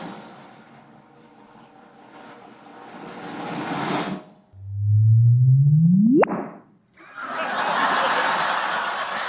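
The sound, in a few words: simulated gravitational waves of colliding black holes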